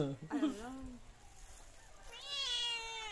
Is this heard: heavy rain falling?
no